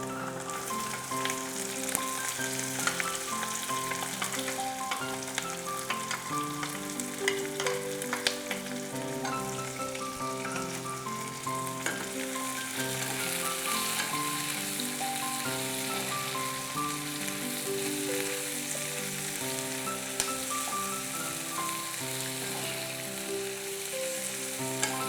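Steady sizzling and crackling of onion, chili and fennel seeds frying in a hot pan, continuous and close, with faint stirring clatter and no talking.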